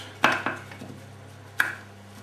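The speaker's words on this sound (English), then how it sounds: "The rosemary, just going to chop that." A knife chops rosemary on a board, giving two sharp strikes close together near the start and a third hit a moment later, all close and fairly quiet.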